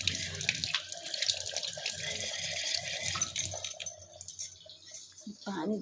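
Hands are washed under a running tap, with a steady rush and splash of water that continues close by, then turns into broken, irregular splashes and drips near the end.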